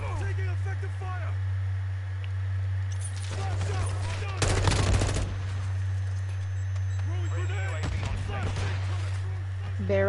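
Bursts of automatic gunfire crackle in Call of Duty, with a few rapid volleys over a steady low engine-like hum, and a voice speaking between the shots.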